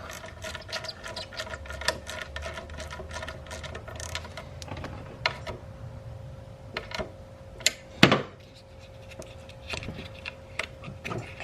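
A ratchet clicking in short bursts while snugging an alternator bolt on a 6.0 Powerstroke diesel engine, with intermittent metallic clicks and clanks close by, no talking.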